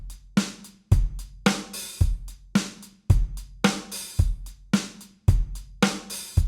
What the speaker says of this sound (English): if I take this last hi-hat sound and I make it open where it lands on an